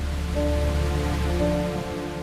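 Heavy rain pouring down, a dense, steady hiss with a low hum running beneath it and no voices.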